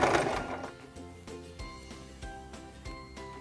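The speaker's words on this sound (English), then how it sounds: "We'll turn to step 3 of our buttonhole on our stitch selection dial, and then we'll sew 6 to 8 stitches again." A Singer 1512 Promise II sewing machine stitches a buttonhole, its needle pounding in a quick, steady mechanical rhythm with regular sharp clacks, close and clear with no talking.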